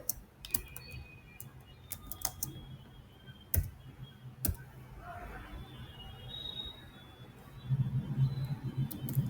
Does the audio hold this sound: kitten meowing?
no